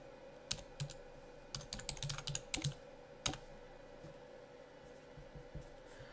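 A password being typed on a computer keyboard, with a few quiet, scattered keystrokes in short bursts and pauses between them, close but faint, no talk.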